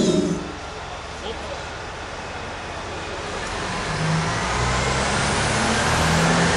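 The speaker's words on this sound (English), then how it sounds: "we're about to carry out an emergency stop" A Caterpillar heavy haul truck carrying 180 tons makes an emergency stop from about 30 km/h, its engine rumbling and hissing as it slows, with a low drone building toward the end and wind noise throughout.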